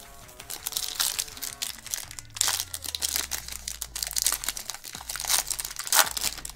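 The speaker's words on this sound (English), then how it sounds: "pack number 2 here" Crinkling and tearing of a foil wrapper as a 2022 Panini Select Cosmic trading card pack is opened, close and busy, with steady crackle and a few sharper rips and a low tonal hum underneath.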